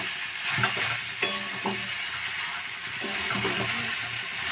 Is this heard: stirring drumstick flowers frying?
yes